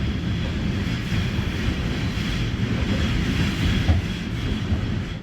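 A loco-hauled passenger train bound for Ozurgeti, Georgia, runs through a tunnel near Treta: a continuous deep rumble with wheel clatter, close and loud and filling the whole stretch with no talk.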